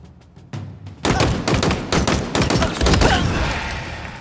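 Rapid gunfire in the Halo Infinite training range as Spartans shoot targets, a quiet opening of faint pops followed by a loud, close burst of repeated sharp shots and thumps that continues steadily.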